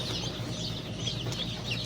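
Young chicks peep and cheep in a constant, high-pitched chatter while being weighed, a busy brood close by with no one talking.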